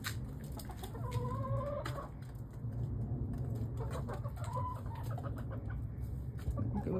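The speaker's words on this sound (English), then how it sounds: "You guys want to see the chickens?" Backyard chickens clucking and murmuring close by, with short rising calls from a few birds over a steady low hum of outdoor ambience and soft scratching, no talking.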